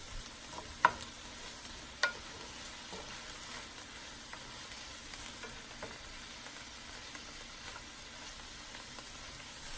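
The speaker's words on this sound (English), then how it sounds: "Give everything a good stir together and then even it out at the bottom of the pan and continue to cook it on medium heat for 10 minutes." Onions cooking with salt in a pan over medium heat give off a quiet, steady sizzle, with a few soft clinks and scrapes of stirring early on and no talking.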